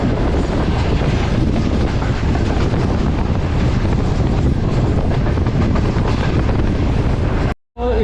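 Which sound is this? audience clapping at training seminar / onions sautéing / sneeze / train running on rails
train running on rails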